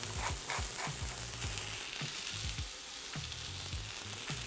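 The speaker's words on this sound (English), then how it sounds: "We want to whisk this until all the streaks are gone out of the egg" Eggs whisked with water, salt and pepper in a bowl for a breakfast quesadilla, a quick steady run of rhythmic tapping strokes, close and fairly quiet.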